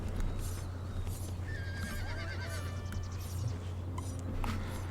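Horses whinnying and neighing in the Napoleon: Total War video game, several long shrill calls over a constant low battle rumble, with faint hoof clatter and clicks.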